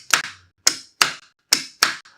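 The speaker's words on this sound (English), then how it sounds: "You can hear this knock sound." Electrical contactor clunking as it switches, five sharp separate knocks spaced about half a second apart, close and loud with short decays and silence between.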